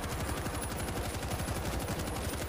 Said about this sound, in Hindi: भाई 50 कैलिबर गन है हमारी, धज्जियां उड़ा देगी